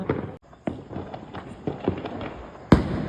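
Loud sharp bangs of Diwali firecrackers bursting at irregular intervals, several close and one especially powerful blast near the end, with a crackling background.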